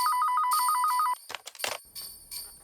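A telephone gives one burst of a fast, trilling electronic ring, clear and close, then stops and leaves scattered handling clicks and soft background noise.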